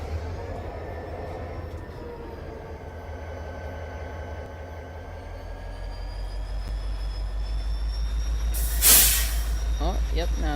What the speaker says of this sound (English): I get back in the locomotive. And then I go just couple into it.